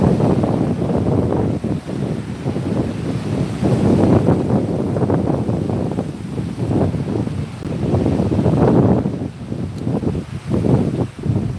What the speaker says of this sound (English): let you watch the waves